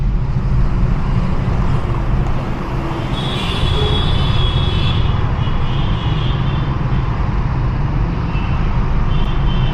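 Dense Delhi traffic roars loud and continuous through the open window of a Maruti Swift CNG, with rushing road noise and a faint high squeal partway through.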